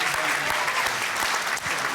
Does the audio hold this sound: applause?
yes